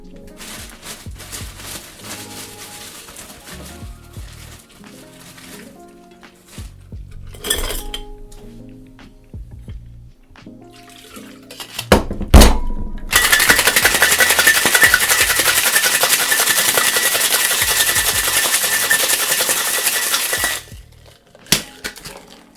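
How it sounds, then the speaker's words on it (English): A cocktail shaker loaded with ice and a gin cocktail made with Empress Gin and crème de lavande clinks and rattles at first, then is shaken hard in a long, loud, continuous rattle before stopping. "Let's shake this guy up with ice and see what we got."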